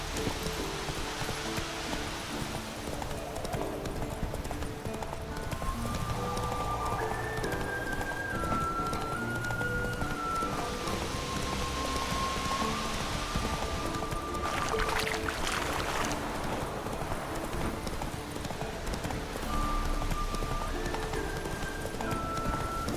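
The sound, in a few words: hooves of Eskel's horse Scorpion, from video game The Witcher 3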